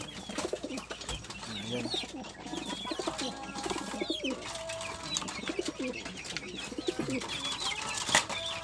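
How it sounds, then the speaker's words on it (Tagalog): Pigeons cooing softly inside a coop, repeated low coos and occasional chirps throughout, moderately near but quiet, with a brief spoken word and some background noise. "Nag-aaway pa ito mga kalapatids."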